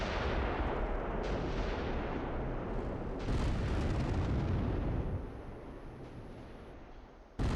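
Mortar and gunfire in the World War II strategy game Close Combat III, a dense, continuous roar of booming blasts and crackling shots that stays loud throughout, eases somewhat near the end, then surges again.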